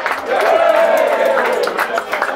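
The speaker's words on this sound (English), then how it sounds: "Big round of applause for the man they call Murph!" A gig crowd claps and cheers for a performer called Murph at a Tom Meighan secret show, sustained applause with shouting voices blended into a loud, continuous roar.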